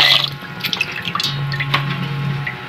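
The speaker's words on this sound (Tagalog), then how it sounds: "Hugasan lang po natin ng tubig." Running tap water splashing and dripping while sweet potato leaves are rinsed in a kitchen sink, a steady close wash with small drips and clatter and no talk.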